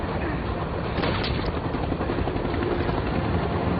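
Helicopter in an action film scene, a loud continuous rotor roar with possible gunfire bursts mixed in, close and sustained throughout.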